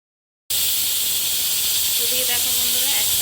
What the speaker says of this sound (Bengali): এদিকে দেখো বন্ধুরা, একটা সিটি দিয়ে দিয়েছে।